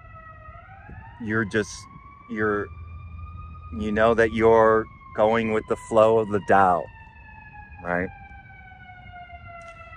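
An ambulance siren wails steadily in the background as it passes, its rising and falling tones running under someone speaking calmly nearby.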